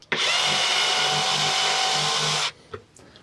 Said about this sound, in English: use a screwdriver or drill to tighten them securely